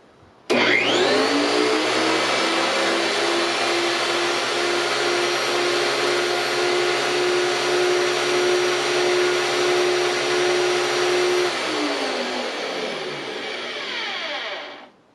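A VEVOR 2,000-watt benchtop planer motor kicks on abruptly and runs at a loud, steady whine, then spins down slowly to a stop.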